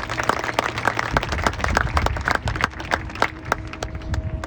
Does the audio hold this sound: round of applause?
yes